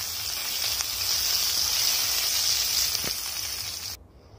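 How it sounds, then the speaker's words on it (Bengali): Pieces of brinjal frying in hot oil give a steady loud sizzle that cuts off abruptly near the end, leaving quieter background. "এবার আমি এই তেলের মধ্যে বেগুনগুলোকে দিয়েও আমি ভেজে নেব।"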